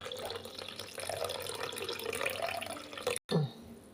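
Water pours steadily into a pot of rasam, a rushing, splashing stream that runs for about three seconds, breaks off briefly, then returns with a short gurgle.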